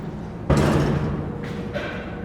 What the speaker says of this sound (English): the door operator is kind of noisy